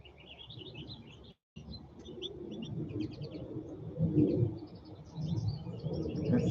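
Birds chirp and tweet continuously outdoors, with pigeons or doves cooing low underneath, a steady moderately loud chorus with a brief dropout partway through.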